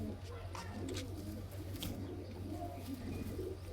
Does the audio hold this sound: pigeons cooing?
yes